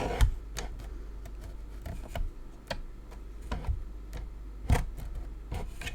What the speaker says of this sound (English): If you're steady enough to do this with scissors, I suggest you do it with scissors.